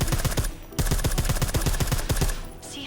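Rapid, evenly spaced suppressed gunfire from Deus Ex: Mankind Divided rattles off in two close, loud bursts with a brief gap between them, then trails away into a fading hiss.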